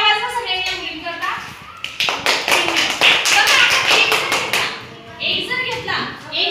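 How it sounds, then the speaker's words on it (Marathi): Schoolchildren in a maths class clap for the girls, a burst of loud rapid hand claps mixed with children's voices and a teacher talking. "टाळ्या वाजवा सगळ्यांनी मुलींकरता"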